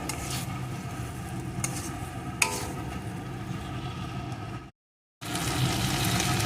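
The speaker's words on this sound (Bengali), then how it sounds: "এখন আমি ভেজে রাখা ডাটা আলুটা এর ভিতরে দিয়ে দেব ডাটা আলুটাও এই মশলার সাথে একটু কষিয়ে নেবো" Fried drumsticks and potatoes are stir-fried in a spice paste with a dense, even sizzle and a few stirring knocks. The sound cuts out to silence for half a second, then resumes.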